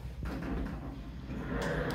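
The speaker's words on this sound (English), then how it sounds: "Oh, very heavy door, and it slides very nicely. Oh, and it shuts." A heavy glass shower door in a new 2024 ranch-style modular home glides along its track with a low, soft rumble, then settles closed with faint knocks near the end, all fairly quiet and close.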